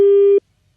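A telephone busy tone after a cut line: one steady, loud beep of the engaged signal lasts about 0.4 seconds, then stops, leaving near silence.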